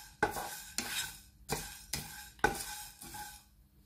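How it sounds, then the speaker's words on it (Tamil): Spices dry roasting in a pan are stirred in five or six distinct, evenly spaced scraping strokes, close and crisp against the metal with a light rattle of seeds between them; no talking. "இதை நல்லா வறுக்கணும் வேண்டிய இல்லை, ஓரளவுக்கு வறுத்தா காணும்."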